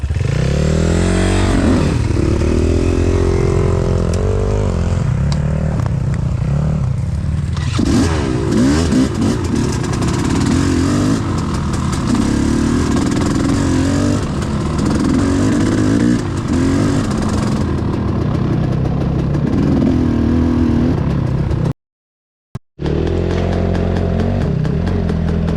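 A motorcycle drowned up to its handlebars in a stream, its engine turned over and revved hard in first gear at idle, loud and close with rough clatter and surging throttle, cutting out for a moment near the end.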